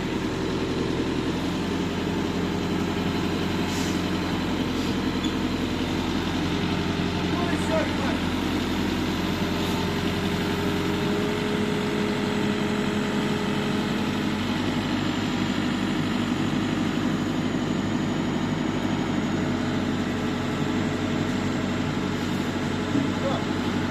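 Homemade tractor engine running steadily at low idle with a continuous heavy drone, close and unbroken throughout, with someone speaking over it.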